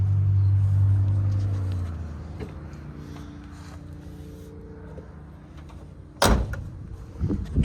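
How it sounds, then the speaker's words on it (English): A muscle car door is shut once with a firm, solid thud, preceded by low engine-like rumble fading away and quiet shuffling, followed by a few faint knocks. "Door shuts good."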